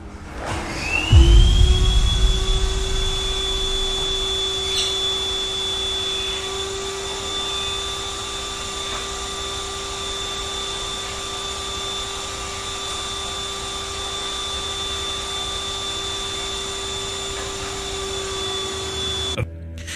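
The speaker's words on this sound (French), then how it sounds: "l'aspirateur se dérobe de son coin, s'écrasant sur le sol avant de s'allumer de manière autonome" A vacuum cleaner whirs to life with a thump and a rising tone, then settles into a steady, loud motor hum with a high whine that runs on.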